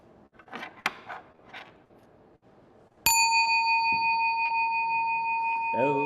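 A single struck Buddhist temple bell rings out with a sharp attack and a long, sustained metallic tone that slowly decays; quiet chanting or voices precede it.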